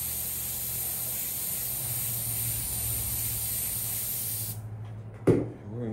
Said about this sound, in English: this is airbrushing